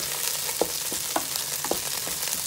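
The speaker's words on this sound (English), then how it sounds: "Just sauteing that garlic up nice and good." Chopped garlic sizzles steadily as it browns in hot oil in a pan, with a few soft stirring scrapes and clicks rising above the constant frying hiss; no voices.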